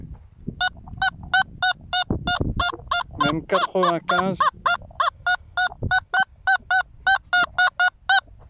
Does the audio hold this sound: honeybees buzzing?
no